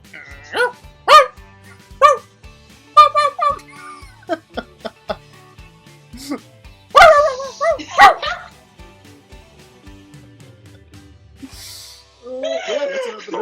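A person imitates a small dog barking with a series of short, high yips and yaps, close and loud, in scattered bursts with pauses between them.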